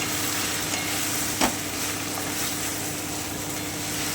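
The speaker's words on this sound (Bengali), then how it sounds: "দু থেকে তিন মিনিট একটু ভেজে নিচ্ছি" Cauliflower and spices frying over lowered heat in a pan, a steady hissing sizzle throughout with one brief clatter of the stirring spoon, no voices.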